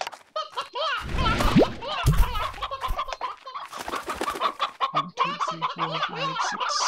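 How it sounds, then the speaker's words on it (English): Chickens in a coop in Slime Rancher, many overlapping clucks and squawks from several birds, steady and close, with bursts of low rumble partway through. "This is my chicken coop."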